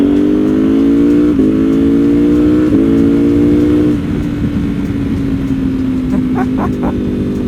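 Lamborghini edition Ducati Panigale motorcycle engine revving, loud and close, with repeated rising throttle blips that drop back, then settling into a steady idle with a few short sharp pops near the end.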